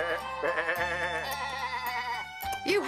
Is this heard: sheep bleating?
yes